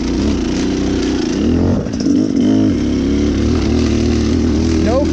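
A 2018 Beta Cross Trainer 300 dirt bike lugs uphill in third gear at low speed, its engine a steady loud throb with slight pitch shifts and a short dip in the middle, close and continuous.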